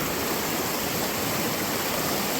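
A creek rushes steadily past during a crossing while out gold prospecting, a close, continuous broadband wash of flowing water with no voices.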